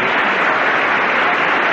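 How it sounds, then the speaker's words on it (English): Steady, loud applause from a television game show studio audience, a continuous roar of many clapping hands with no breaks or voices. "We got to give them some applause, too."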